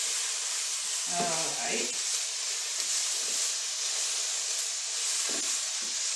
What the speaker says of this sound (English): just sauteing 1 cup of diced onion in it